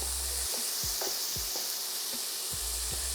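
Mince browning in oil in a pan, a steady bright sizzle running throughout, broken by several soft knocks and scrapes as the meat is stirred.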